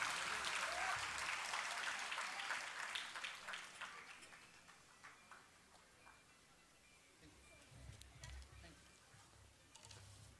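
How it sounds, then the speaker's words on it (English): Faint applause for Ankita at a national debate competition prize giving, a quiet wash of clapping heard from a distance that thins out, with brief voices mixed in. "A big round of applause for Ankita."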